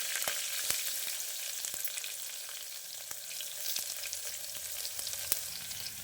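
Garlic fries in hot oil for a drumstick gojju, a steady close sizzle broken by sharp ticks and pops from the pan, with no talking.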